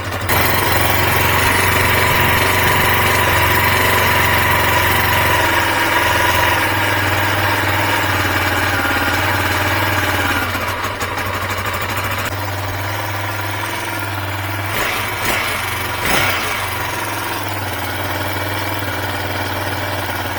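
A carbureted 2022 Peacesports Brozz Recon 250 (229 cc) dual-sport enduro motorcycle idles loud and close, with a steady, rough, throbbing engine note that holds for the whole stretch.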